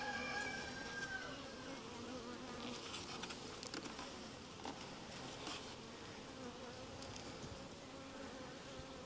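Honeybee colony buzzing steadily during a hive inspection of frames packed with sealed brood, a dense continuous drone of many bees close by with no talking.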